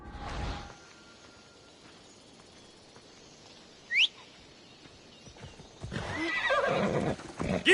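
Horse in the video game Assassin's Creed Odyssey: a loud snort-like burst opens, a short high whinny rings out midway over quiet ambience, then close, rapid galloping hoofbeats build loudly to the end.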